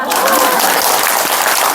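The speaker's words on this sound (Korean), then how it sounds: "박수 한번 쳐줘요" A group claps together at a Korean Buddhist temple gathering during a temple pilgrimage: loud, steady, dense applause that fills the whole moment, with some voices mixed in.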